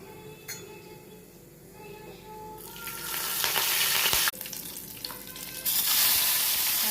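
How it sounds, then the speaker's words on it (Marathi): Cumin seeds and asafoetida hitting hot oil, quiet at first, then a loud sizzle that flares up, briefly cuts out and surges again, with a light clink of a utensil. "मी आता तेलात जिरं टाकले, हिंग टाकते।"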